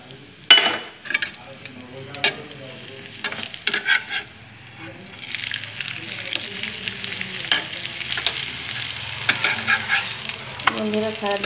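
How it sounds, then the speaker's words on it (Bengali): Paratha fries in a pan with a steady close sizzle, broken by scraping and clinking as it is turned and stirred. "প্রায় কমপ্লিট হয়ে এসেছে পরোটা ভাজা।"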